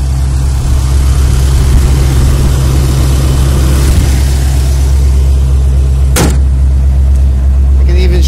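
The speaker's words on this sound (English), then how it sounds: "That's a peek at the engine running." Chevrolet Corvette C3 engine running: a loud, steady low idle rumble held close and even throughout, with one brief sharp knock near the end.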